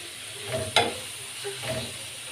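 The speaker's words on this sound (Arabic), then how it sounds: "ما تاخد كده تشويحه مع البصله، والبصله تاخد لون وتدبل شويه" Sliced onion sizzles and is stirred in a hot pan with chicken pieces, a steady close frying hiss with a sharp crackle and soft scraping strokes.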